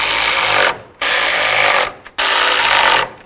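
Close, loud ratchet cranking on control arm nuts of a 2006-10 Dodge Charger, three bursts of rapid clicking separated by short pauses.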